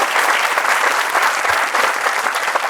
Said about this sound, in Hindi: सज्जाद भाई के लिए तालियां तालियां होनी चाहिए वाकई